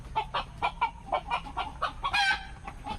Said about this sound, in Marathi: मस्त पैकी खाणे का ना भाई कोंबडा गावठी कोंबडा